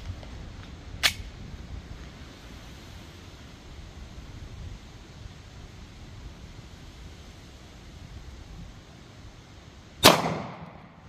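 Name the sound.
S&W M&P .40 pistol firing Underwood 140gr round into gel block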